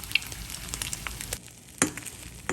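French toast frying in a pan, a soft steady sizzle with a few sharp clicks and one louder clatter near the end, close by and without talk.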